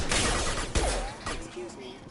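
Gunfire in the sci-fi shooter Mass Effect 2, a handful of sharp shots and impacts in a busy combat mix, with a few speech sounds underneath.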